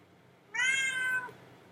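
A single clear cat meow, close and fairly loud, rising then falling over about three-quarters of a second in an otherwise quiet indoor room.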